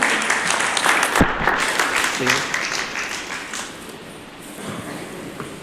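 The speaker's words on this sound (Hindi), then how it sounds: "जोरदार तालियां भाई साहब" Loud, dense applause fills a temple hall during a Shiv Jayanti gathering of the Bahawalpur Biradari community, a steady wash of clapping with some crowd voices mixed in, easing slightly toward the end.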